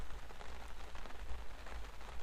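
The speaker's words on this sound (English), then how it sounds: "It's raining like crazy over there. It's just pouring." Heavy rain pouring down in the Yukon: a dense, steady hiss of downpour with constant patter, fairly close and unbroken, no voices.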